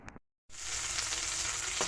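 Prawns frying in a pan for a Bengali prawn malaikari: a short clatter, a beat of silence, then a steady, close, bright sizzle that keeps crackling without pause.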